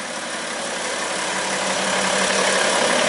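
A BMW X5 diesel engine idles steadily, a continuous broadband rumble and hiss that holds even and fairly loud, swelling slightly toward the end.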